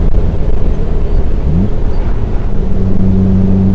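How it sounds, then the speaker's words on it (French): A Morgan Plus 4 roadster pulling hard at high revs, its exhaust resonating in a loud, steady drone heard from on board, with a brief rising engine note partway through and no talk. "Vous avez une résonance à l'échappement qui est sympa."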